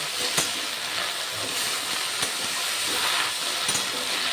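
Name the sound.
bottle gourd leaves frying in a pan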